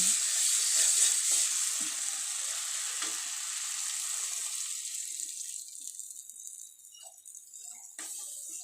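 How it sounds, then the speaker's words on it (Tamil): Water poured into a pan of frying quail egg gravy sets off a loud, hissing sizzle that slowly settles into a softer, steady bubbling crackle, close by with no voices. "இதுக்குள்ளே கொஞ்சம் தேவையான அளவு கொஞ்சம் தண்ணி ஊற்றலாம்"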